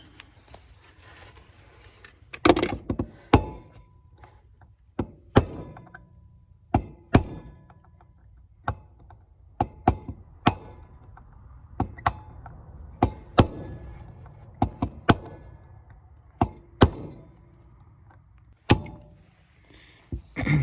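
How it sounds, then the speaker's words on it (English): A pick tapped against a Polaris Ranger 500 carburetor during a rebuild gives sharp, close metallic knocks, spaced irregularly and repeated many times over quiet background. "if you'll hold it down on there tight and give it a good solid peck, usually it'll pop right out"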